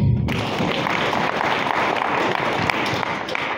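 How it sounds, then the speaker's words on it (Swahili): A church congregation claps together in dense, steady applause, loud and close, the rapid hand claps blending into a continuous wash that starts abruptly and holds for several seconds before easing slightly at the end. "Walio wako wapige makofi"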